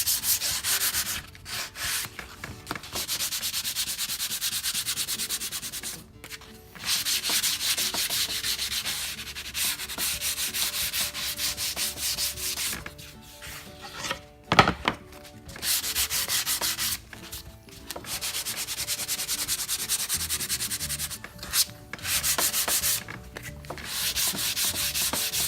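Wood veneer being sanded by hand, a continuous rasping scrub in long strokes with brief pauses between passes, close and steady, no voices.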